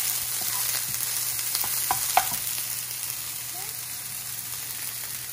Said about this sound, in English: get those in there and let them sizzle a little bit